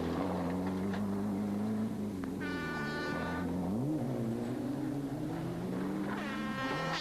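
A Ford Escort rally car's engine drones steadily and loud, pitch dipping and rising through gear changes, with brief high whining tones over the rumble during a 1994 Rally des Hautes Fagnes stage.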